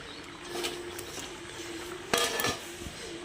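A lid settles onto a cooking pan of flat beans, eggplant and green peas with one sharp metallic clink and a small rattle, faint kitchen background around it and no speech.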